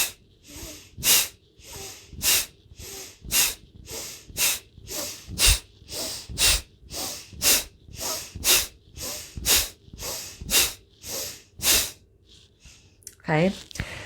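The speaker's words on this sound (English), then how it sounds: "So active exhalation through the nose." Breath of fire practice: a rapid, regular train of sharp, forceful nasal exhalations, about one and a half per second, close and loud, each a short hissing puff with quiet passive inhales between, ending in a brief ragged breath.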